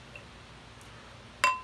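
A single bright clink of a brand-new Italian beer glass rings out near the end, short and clear, after a quiet moment with no talking.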